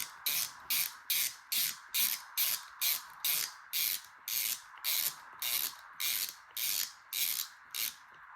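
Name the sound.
ratcheting tool tightening RC car steering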